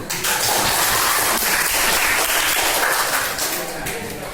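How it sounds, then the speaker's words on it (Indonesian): Classroom of pupils applauding together, a dense, steady wash of clapping that holds loud and close for about four seconds before thinning slightly at the end. "tepuk tangan semua"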